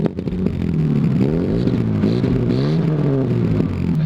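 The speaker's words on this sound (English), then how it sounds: "Got the pops and bang too as well." Loud, raw exhaust note from a BMW M6 with a muffler delete, revving up and down with rapid crackling pops and bangs, close and continuous for about four seconds.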